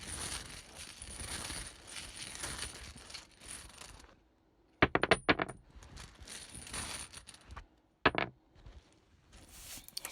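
Tarot tiles and small charms rummaged by hand, giving bursts of clattering, clinking taps that stop and start, close and fairly quiet, with no voices.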